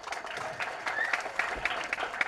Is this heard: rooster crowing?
no